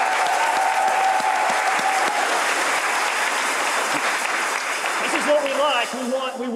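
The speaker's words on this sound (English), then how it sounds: "Let's give each of you a round of applause" Steady, loud applause from a crowd at a business awards event fills the whole stretch, dense clapping with a few voices and whoops rising near the end.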